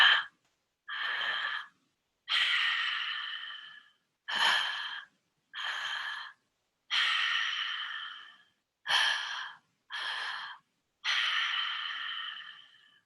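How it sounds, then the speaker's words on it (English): Three-part breathwork through the mouth: a two-stage inhale into belly then chest followed by a single long exhale, heard as a repeating pattern of close, airy breaths separated by short silences. "The breath is a 3-part breath."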